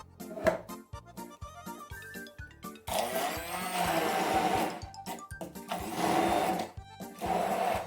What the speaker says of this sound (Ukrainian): просто їх пробиваємо погружним блендером